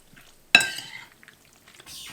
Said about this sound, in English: And we'll give that a stir around to mix it all through